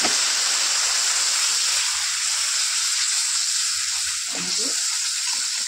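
A paneer curry with red pumpkin flowers hisses in a pan as a little water goes in, a loud, close, continuous sizzle with a brief surge near the end and no talk.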